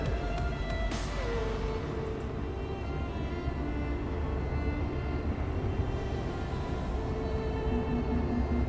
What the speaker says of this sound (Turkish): birazdan 9 tonluk bir F-16 jetinin havada asılı kaldığına tanık olacaksınız